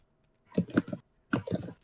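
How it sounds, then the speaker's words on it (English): Two short bursts of computer keyboard typing, quick clustered key clicks close by and fairly quiet, separated by a brief pause in an otherwise silent room. "People are typing things."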